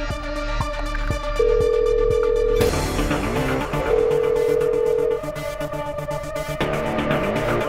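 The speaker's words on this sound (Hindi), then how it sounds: "अर्जुन का है, उसे फोन करती हूँ।" A phone ringback tone sounds in repeated steady beeps over a busy background of music and clicks, loud and close.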